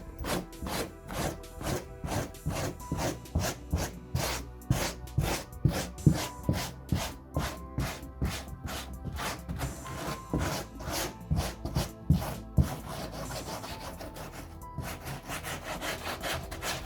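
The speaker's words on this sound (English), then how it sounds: "a good scrape and this residue comes off no problem at all" A wire brush scrapes sticky glue residue off the headliner of a Range Rover L322, in rapid rhythmic back-and-forth strokes that stay close and loud, then blur into a steadier rubbing near the end.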